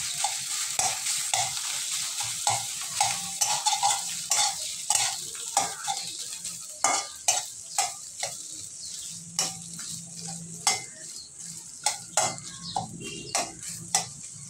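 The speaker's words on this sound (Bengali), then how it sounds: "দিয়ে আর একটু ভেজে নেব কিছুক্ষণ।" Prawns and fish filling for pointed gourd dolma fry and sizzle in a pan, with steady hissing broken by repeated scraping stir strokes and light clinks of utensil on pan, close and continuous with no talk.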